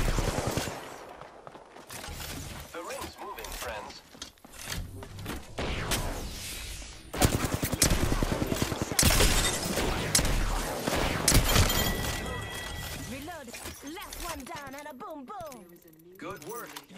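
Rapid bursts of automatic gunfire and sharp single shots in Apex Legends, loud and close with clattering shell and impact noises, mixed with game effects and a voice talking between volleys.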